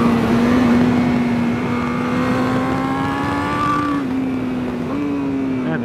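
A 2021 Honda CBR1000RR-R Fireblade SP revving on a race track, a loud, sustained high-pitched engine whine that climbs through the rev range with brief dips between pulls.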